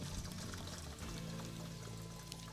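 MicroGlass liquid sealer pours into a sprayer in a steady, close gush, a continuous rushing liquid sound with a slight shift in tone midway as the container fills.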